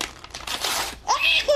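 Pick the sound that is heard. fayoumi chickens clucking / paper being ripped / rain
paper being ripped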